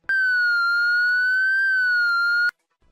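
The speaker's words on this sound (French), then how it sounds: "la sonnerie de la sirène extérieure et son flash pendant 15 secondes" A loud, steady electronic outdoor alarm siren wails at a constant pitch for about two and a half seconds, then cuts off abruptly into silence.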